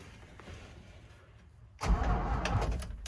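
A 1974 Toyota FJ40 barn-find engine cranks over after sitting, a quiet stretch giving way to a loud, close, steady churning for the last second and a half.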